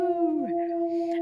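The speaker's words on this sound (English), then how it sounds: "the very, very branded and very recognizable wolf howl that we seem to have coined" A single drawn-out wolf howl sound effect, loud and close, holding a steady tone with a brief dip in pitch midway, used as a spoiler-warning cue on a book podcast.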